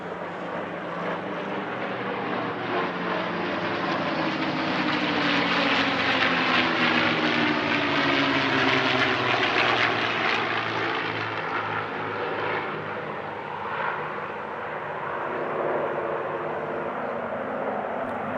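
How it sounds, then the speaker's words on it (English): A P-51 Mustang warbird's piston engine drones through a display flight at an air show, a loud, continuous roar whose pitch sweeps and shifts as the aircraft passes and banks. "one of the P-51s headed to the hold to join up with the PC-9, and the other conducted a solo display"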